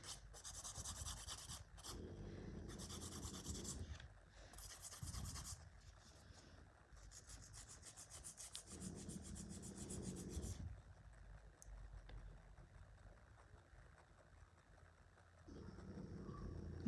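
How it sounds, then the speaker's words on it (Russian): Gel nail extensions on gel tips are filed with a coarse 100/180 grit nail file, giving repeated bursts of dry rasping strokes close up, separated by short pauses and faint background noise. "пожестче возьму пилочку. Пилка здесь подойдет 100 на 180 для материала."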